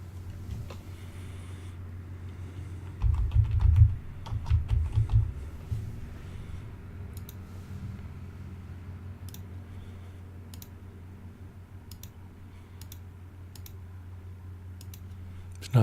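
Mouse clicks and light key taps on a computer running Ubuntu MATE 18.04, irregular and sparse, with a burst of heavier clatter early on over a low hum.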